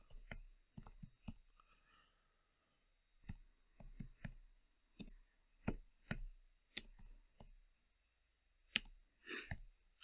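A computer keyboard on a Windows machine is typed on in sparse clusters of quiet clicks separated by pauses, close but faint, with no talking.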